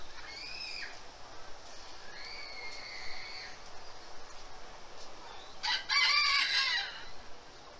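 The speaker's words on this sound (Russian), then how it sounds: "Клинохвостый фазан." A Reeves's pheasant calls in short harmonic bursts, two brief calls and a longer one, then a harsher, louder flurry near the end against quiet outdoor park background.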